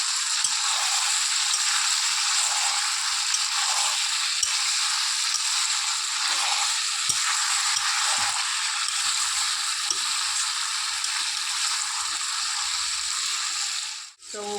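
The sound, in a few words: stirring chicken kosha in pan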